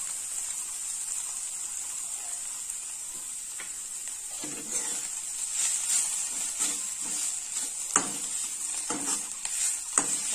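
Pounded rice flour and tita flowers being stir-fried together in a pan: a soft continuous sizzle with scattered scraping stirs that grow busier toward the end. A steady high hiss runs underneath, and there is no talking.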